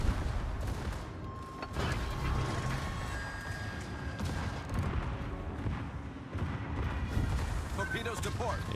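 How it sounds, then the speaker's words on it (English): Booming explosions and heavy impacts from a naval warship video game, torpedo strikes landing in a dense continuous barrage with a person talking over the action. "I'm gonna get hit with some torpedoes."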